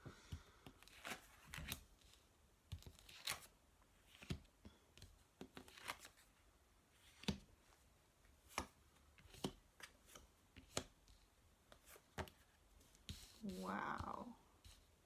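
Tarot cards are shuffled in quick, irregular riffles and slaps, close and quiet, with a soft murmur near the end.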